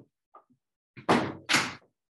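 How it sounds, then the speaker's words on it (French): Two loud, close thumps and rattles of a door being pushed open by a cat, coming in quick succession after a few faint knocks in an otherwise quiet room. "J'ai un chat ouvreur de porte, donc je suis désolée."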